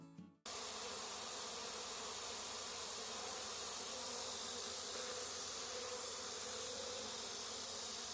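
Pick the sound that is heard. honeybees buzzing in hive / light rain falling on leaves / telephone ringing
honeybees buzzing in hive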